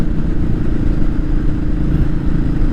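A Royal Enfield 500 motorcycle idles with a steady, loud low-end thump, its single-cylinder engine churning alone and close by without any rise in revs.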